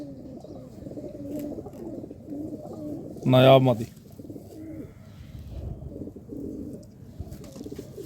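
Sialkoti pigeons cooing, a short burst of low throaty coos near the middle, with someone talking steadily before and after it.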